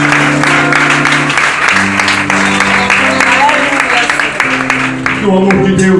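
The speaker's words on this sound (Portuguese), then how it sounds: "dê Ele uma forte salva de palmas" A Baptist church congregation claps loudly while sustained organ or keyboard chords play throughout, the applause steady and dense beneath the music.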